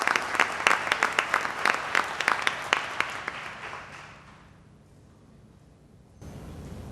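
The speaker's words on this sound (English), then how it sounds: "Please give a round of applause for our gardeners." An audience at a neighborhood partnership annual meeting claps for its gardeners: a burst of dense applause from a room full of people that fades out after a few seconds, then quiet room noise.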